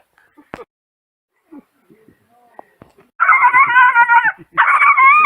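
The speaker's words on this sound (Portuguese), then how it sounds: "Cachorrinho bravo, gente." A fierce little dog barks in rapid, loud bursts near the end, two sharp runs of yapping after a quiet stretch with faint scattered sounds.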